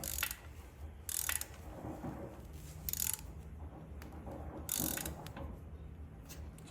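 A ratchet tightens intake manifold bolts on a 2023 Harley FLHXS, producing several short, close bursts of rapid clicking separated by quieter gaps.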